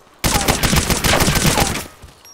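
Rapid close gunfire from a suppressed rifle in DayZ Overpoch fired through a wall, a dense burst of repeated shots lasting about two seconds before cutting off.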